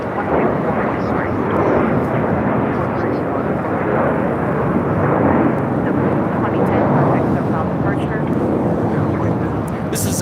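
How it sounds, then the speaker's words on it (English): A JetBlue Airways A321 jet takes off, a loud, steady broadband engine roar filling the whole stretch, with voices mixed in under the noise. "This is MINT taking off to West Palm Beach on A321 JetBlue Airways flight 2010"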